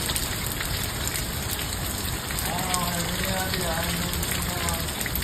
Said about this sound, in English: nobody really would have a fire right now because it's pouring down rain again